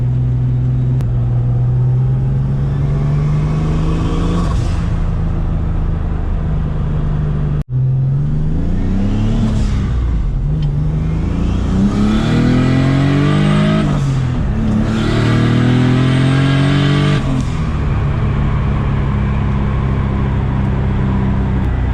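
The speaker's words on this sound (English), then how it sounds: "I need to let the engine decel. That was a good pull though." A turbocharged BMW M50 engine with forged internals revs up in repeated pulls, climbing in pitch, then drops back to decelerate between them, loud and close with no talking.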